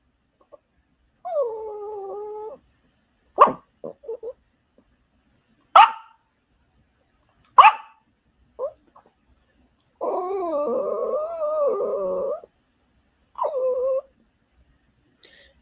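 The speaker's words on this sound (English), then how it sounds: "I hear my dog crying because she wants my taco pie" A pet dog begging for taco pie whimpers and whines in several long drawn-out bouts, broken by short sharp barks, close and loud in an otherwise quiet room.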